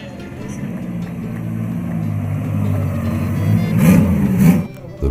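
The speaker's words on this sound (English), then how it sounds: "The parade on the terrace was opened by the street run of historic motorcycles" Historic motorcycle engines rumble steadily as they pass close by in a street run at Concorso d'Eleganza Villa d'Este 2018, the roar swelling near the end before dropping away, with faint crowd murmur underneath.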